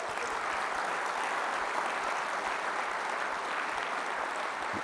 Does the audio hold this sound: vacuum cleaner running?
no